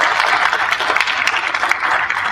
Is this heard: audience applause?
yes